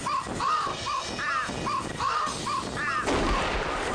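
Crows caw in the video game Thirty Flights of Loving, about eight harsh, evenly spaced calls over a dense background of gunfire, ending in a louder burst.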